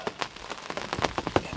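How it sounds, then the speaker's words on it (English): Pouring rain drums on a hunting ground blind at camp, irregular close-up taps and patters striking the shelter in quick succession, with no voices. "it's pouring rain, as you could probably hear"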